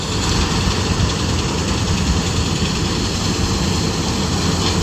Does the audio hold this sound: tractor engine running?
yes